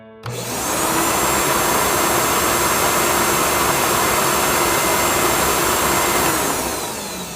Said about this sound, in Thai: เป็นเสียงของเครื่องดูดฝุ่นที่กำลังทำงานอยู่นั่นเองค่ะ